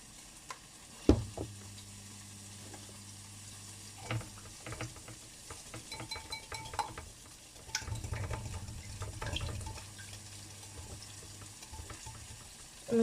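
Crème fraîche being stirred into courgettes and bacon lardons in a pan, a soft sizzle with wet scraping and occasional knocks of the spoon against the pan, quiet and close.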